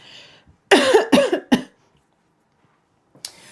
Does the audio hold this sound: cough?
yes